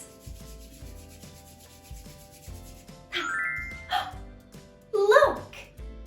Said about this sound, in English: Rub your hands together like this.